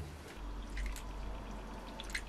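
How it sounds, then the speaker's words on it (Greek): Water is poured into a beef marinade with a spice mix in a kitchen, making a close, continuous trickling and splashing with small drips, over a low background hum. "Και θα προσθέσω και 80 γραμμάρια νερό."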